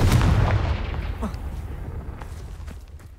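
A Confringo blasting spell explodes in the Hogwarts Legacy video game: a loud, booming burst right up close that rumbles and slowly decays over a few seconds, with faint game ambience trailing after.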